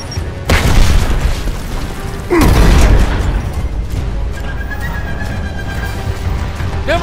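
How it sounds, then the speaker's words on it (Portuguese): A grenade blows up in Gears of War Ultimate Edition, two heavy booming blasts about two seconds apart, each a loud broadband thud that fades into rumbling battlefield ambience with faint whistling tones afterward. "Lançando granada!"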